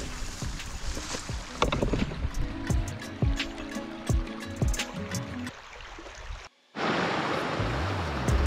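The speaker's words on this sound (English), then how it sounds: "Nice spot here right alongside a little brook." A small brook runs beside a grassy autumn camping spot, its steady trickling and gurgling water carrying on close by, with scattered clicks and knocks over it and a brief drop to near silence before the flow resumes.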